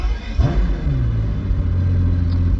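A Pagani Huayra Roadster BC engine fires up with a sharp starter catch and rising rumble, then settles into a loud, steady, deep idle close by, with no voices.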